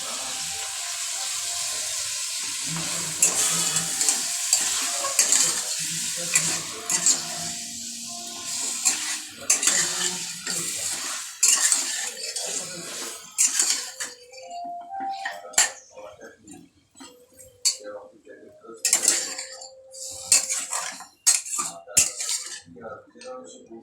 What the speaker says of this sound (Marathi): याच्यात मटण टाकून घालून घेऊया, चांगलं मिक्स करून घेऊया